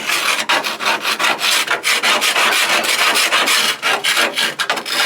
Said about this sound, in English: Scraping rust